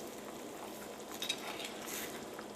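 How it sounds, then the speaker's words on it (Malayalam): A potato and coconut milk curry is stirred in a cooking pot, with soft scraping and a faint bubbling sizzle running quietly throughout, plus a couple of light clinks near the middle. "നമുക്ക് കറി ഒന്ന് ഇളക്കിയിട്ട് കൊടുക്കാം"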